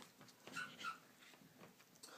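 A teacup Pomeranian puppy at play gives faint, brief whimpers and yips over a soft, noisy room background.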